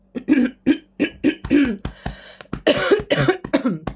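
A series of short, sharp coughs in quick succession, close and fairly loud, with a brief throat-clearing rasp partway through.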